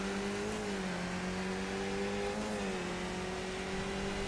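A race car engine in a racing video game at Tsukuba circuit drones at steady revs with a clear tonal whine, dipping and rising slightly as it works through corners, with no talk over it.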